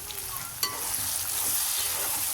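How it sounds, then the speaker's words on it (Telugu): Tomatoes hit a pan of fried onions with a steady, close sizzle, a brief clatter of stirring near the start, then the hiss settles into a constant even frying sound. "ఇప్పుడు టమాటా వేస్తున్నాం"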